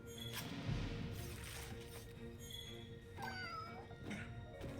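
A cat meows in the Monster Hunter video game, rising tonal calls around midway over a steady bed of game music and ambience, close and moderately loud with no talking.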